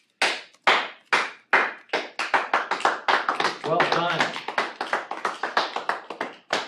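Hands clap in a small group inside a classroom, a run of sharp, close claps that speeds up into a dense patter before thinning out, with a brief spoken voice partway through.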